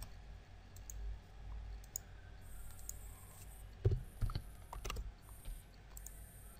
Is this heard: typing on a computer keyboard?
yes